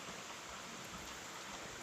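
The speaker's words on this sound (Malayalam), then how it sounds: "എന്താ മഴ കുറഞ്ഞു വരും, പിന്നെയും കൂടി വരും." Rain falling steadily, a soft, even hiss of drops on surfaces, faint and continuous with no voices.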